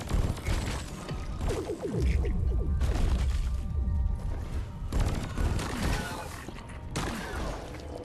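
A fire grenade explodes in the video game Deep Rock Galactic. Dense crackling blasts and burning rumble fill the mix, loud and continuous, with sharp bursts layered over sustained roar and game effects.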